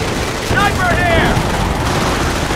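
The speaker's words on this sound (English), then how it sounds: "Taking rifle fire!" Rifle fire crackles in the strategy game Company of Heroes, a dense burst of loud gunshots mixed with battle noise and brief whistling tones, steady throughout the clip.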